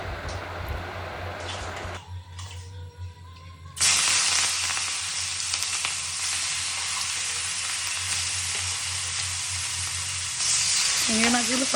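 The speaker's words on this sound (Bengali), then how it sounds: "তেলটা গরম হয়ে গেলে ওপর থেকে একে একে চিংড়ি মাছগুলো দিয়ে আমি চিংড়ি মাছগুলোকে খুব হালকা করে ভেজে নেব।" Prawns hit hot mustard oil one by one for a light fry, starting with softer sizzles, then an abrupt loud, steady frying hiss close by, plus some stirring and a voice near the end.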